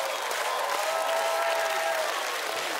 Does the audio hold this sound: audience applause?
yes